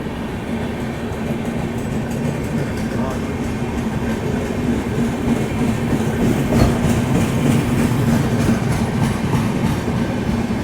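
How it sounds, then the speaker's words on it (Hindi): The Chandigarh Madurai Express rushes past on the adjacent track, a loud, continuous rolling rumble with wheel clatter heard from inside a moving passenger train, steady throughout. "सामने से अभी ये क्रॉस हो रही है अपनी चंडीगढ़ मदुरई एक्सप्रेस"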